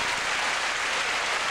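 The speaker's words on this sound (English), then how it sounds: "the crowd roars its approval at the difficult dismount by Liz Iacuzzi" A gymnastics crowd at the 1997 IHSA girls state finals applauds a difficult dismount, producing a dense, steady roar of clapping that fills the whole moment without a break.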